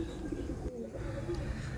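Indian high flyer pigeons give a brief, soft, low coo against a steady murmuring background.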